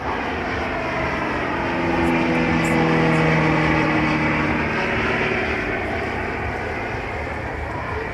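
A Moth Club light aircraft flying at the Halton Air Show gives a steady, droning engine hum that swells slightly in the middle and holds fairly loud throughout, with no one speaking.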